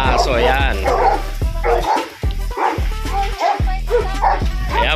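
Several dogs at a kennel bark and yip in rapid, overlapping bursts close by, with a whimper or two mixed in, fairly loud and continuous.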